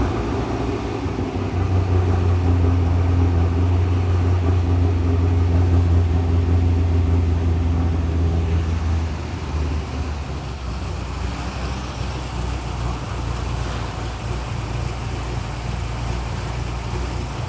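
A Holden VZ SS with an LS1 V8 settles into a steady low idle rumble after starting, loud at first and then easing to a lower, even drone with no talk over it.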